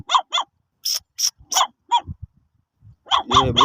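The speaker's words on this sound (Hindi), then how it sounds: "खैर भौंक रहे हैं हमें।" High-pitched puppy yips and small barks come in quick scattered bursts from a pit in a dense Balochistan forest, close by, with a few softer whimpers between them.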